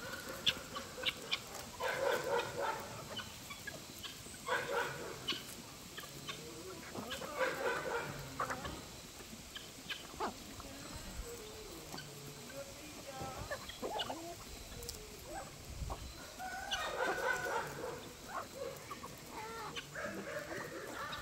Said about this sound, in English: Now I'm gonna go release all the chickens